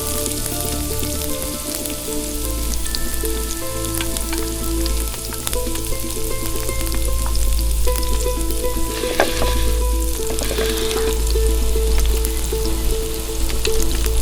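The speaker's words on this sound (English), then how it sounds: "Then I'll add some olive oil and then start frying the onions." A steady, loud sizzle of onions frying in olive oil in a wood-fired oven, with occasional stirring crackles and no voices.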